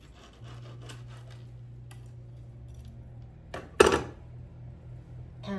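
A knife cutting a piece of freshly baked banana nut bread, soft sawing rubs through the crumb, then a brief louder clatter of the knife or plate near the end, close and otherwise quiet.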